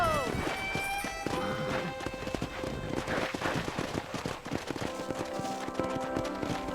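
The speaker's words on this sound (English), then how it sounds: "That ranch hand said there's a pack of wild horses nearby." Wild horses gallop in Red Dead Redemption, a busy patter of hooves with a few whinnies over a dense game soundtrack, moderately quiet and continuous, with some in-game voices.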